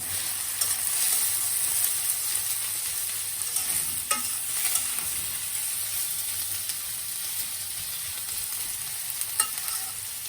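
Two bay leaves frying in hot oil in a pot for pulao, with a steady close sizzle and faint stirring scrapes running through the whole stretch.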